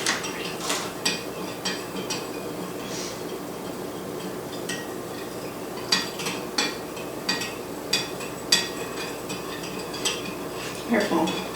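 A spoon stirring a jello mix of sugar and gelatin in a bowl gives repeated light clinks and scrapes in an uneven rhythm, close and fairly soft.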